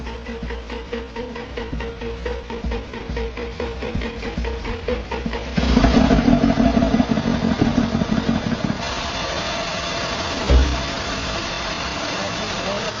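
An Audi Q7 engine, recently repaired after water got into it, cranks and runs steadily, a continuous close mechanical idle with rhythmic clatter that surges louder midway and then settles back to an even running note.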